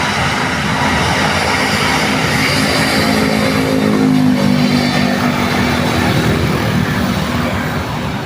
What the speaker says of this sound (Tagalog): palipad tayo ng aeroplano